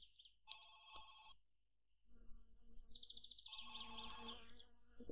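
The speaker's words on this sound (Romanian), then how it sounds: "Ia, sună telefonul." Telephone ringing in the video game My Summer Car: a loud, bright electronic ring in two bursts, the second longer and layered over low engine-like hum, with no talk.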